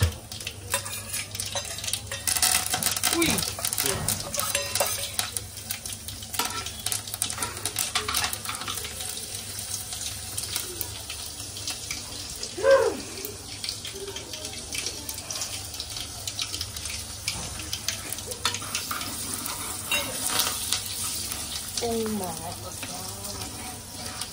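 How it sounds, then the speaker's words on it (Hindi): Mustard seeds and other whole spices hitting hot oil in a pan for dal khichdi, a dense steady sizzle and crackle running throughout, with faint stirring scrapes. "तर आधी आपण राई टाकणार आहोत."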